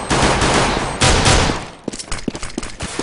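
Rapid gunfire bursts in a competitive team shooter match, including submachine gun fire, loud and dense at first, then thinning into sharp separate shots.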